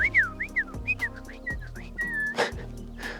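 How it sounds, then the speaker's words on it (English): Quick, rising and falling whistles repeat in frantic bursts, fairly close, with a sharp rustle near the end. "just did the telltale frantic whistling"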